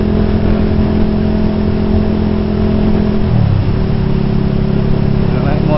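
A touring motorcycle engine hums steadily, then shifts pitch as it accelerates, loud and close with continuous wind and road noise.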